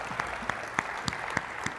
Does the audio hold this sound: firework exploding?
no